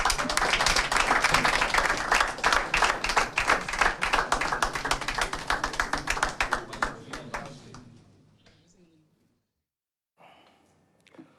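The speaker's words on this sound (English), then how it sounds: "Let everybody clap." Audience clapping at a sports event, a lively burst of many hands with individual claps audible, slowly thinning out and dying away to near silence before a few last faint claps.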